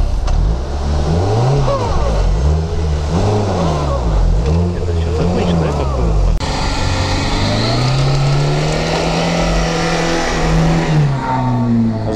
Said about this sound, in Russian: Автомобиль почти обороты теряет, но выезжает.